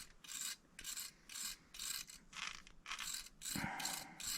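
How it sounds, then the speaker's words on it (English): Metal parts of an old 1979 Yamaha moped carburetor, long left sitting, scrape and rasp as its needle is worked loose. The strokes come close and fairly loud in a steady back-and-forth rhythm of about eight, with no talking. "We gotta see if we can gingerly remove the needle here."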